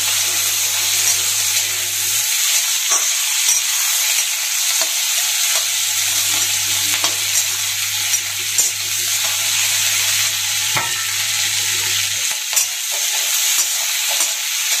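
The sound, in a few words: capsicum and potato lightly frying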